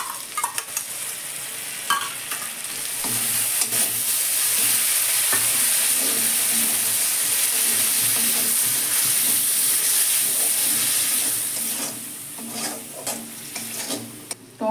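Spices and two spoons of whisked sour curd fry in oil in a pan while they are stirred for a dal with kalmi greens. A loud, steady sizzle runs throughout, broken by scraping stirs. No one speaks.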